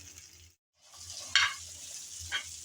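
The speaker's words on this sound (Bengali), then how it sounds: "আবারও কিছুক্ষণ নেড়ে চেড়ে ভেজে নিয়েছি" Ingredients with coriander leaves fry in a pan with a soft steady sizzle that cuts out briefly, then returns with two louder scraping stirs.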